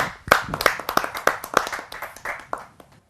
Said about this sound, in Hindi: आप सबकी जोरदार तालियों के माध्यम से।